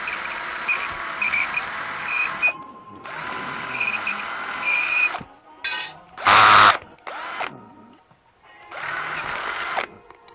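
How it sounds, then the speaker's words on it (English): A power drill bores a hole through a 1/5 scale modified RC car body, whirring in several bursts of a couple of seconds each with short pauses and a loud screech midway. "So let me drill this real quick."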